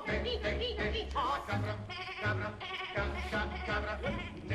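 Goats bleat repeatedly on a farm, several loud, wavering cries close by in an irregular rhythm, mixed with other farm-animal sounds and no talking.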